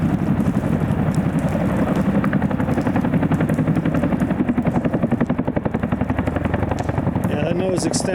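A massive Chinook twin-rotor helicopter with a long in-flight refueling nose, its steady loud rotor chop throbbing continuously throughout at close range, with faint talk over the roar.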